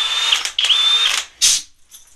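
A Flex or Hilti power tool screams at very high RPM in turbo mode, with loud close bursts of shrill high-pitched whine cut by short pauses, ending in a brief fainter spurt; no one speaks.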